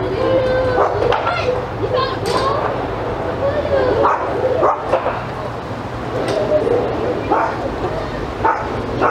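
Several small dogs returning from a yard, yipping, barking and whimpering close by in quick overlapping bursts, with people talking throughout.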